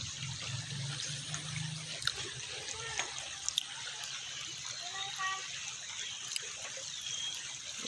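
A shallow, clear river flowing beneath a hanging bridge: a constant soft rush and trickle of water, fairly quiet, with a few faint chirps and small knocks on top.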